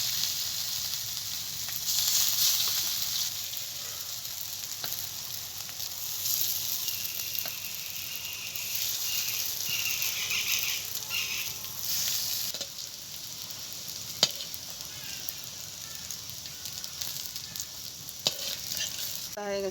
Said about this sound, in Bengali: এখন আমি জল হাত করে অল্প অল্প করে নেব আর বড়াটা ভেজে নেব।